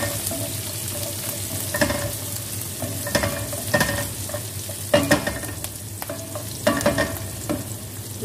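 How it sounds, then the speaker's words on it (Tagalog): Onions fry and brown in a pan for molokhia with chicken, a constant sizzle broken by repeated sharp scrapes and clinks of a spatula stirring against the pan. "Hayaan po natin siya na mag-brown yung sibuyas."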